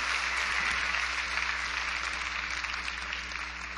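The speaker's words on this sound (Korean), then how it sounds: "우리 두 분 나오실 때 한번 박수로 우리 환영해 주시길 바랍니다" A church congregation at a missionary testimony meeting claps to welcome two speakers to the front: a soft, diffuse wash of applause over a low electrical hum, tapering slightly toward the end.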